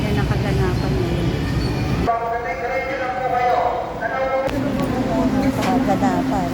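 An elevated LRT light rail train in Manila rumbles and rattles along the track, its wheels and carriage noise steady, with voices talking over it.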